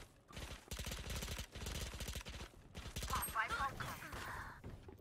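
Rapid bursts of automatic gunfire in a Valorant match come in several close, rhythmic volleys with short pauses between them. Players talk excitedly over the shots.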